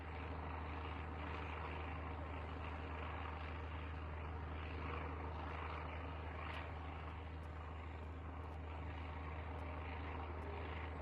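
Propeller airplane making a supply drop in the video game SurrounDead, a steady low droning engine rumble that stays even and moderately distant throughout, with no talk over it.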